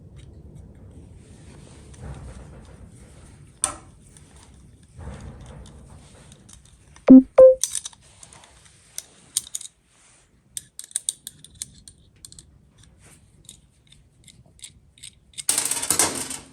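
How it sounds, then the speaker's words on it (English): Ratchet spanner working a nut on a car exhaust, giving scattered short clicking and mechanical clatters, with one louder metallic knock and a burst of scraping near the end, fairly close. "easy enough if I put the ratchet spanner on properly"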